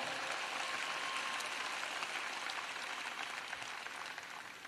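Sustained applause from an audience at a political speech in Macon, Georgia, a dense wash of clapping that holds steady and starts to taper near the end, with no talk over it.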